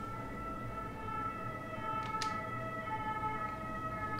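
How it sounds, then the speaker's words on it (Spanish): An ambulance siren passing by, its steady wailing tones held faintly in the distance above a dense background rumble, with no talk. "Por ahí pasa la ambulancia."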